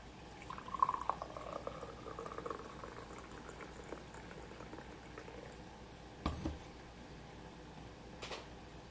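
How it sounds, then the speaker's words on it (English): Coffee pours into a cup as a faint trickling, bubbling liquid sound in a quiet room, with a couple of soft knocks partway through. "Pour me a little bit more coffee here."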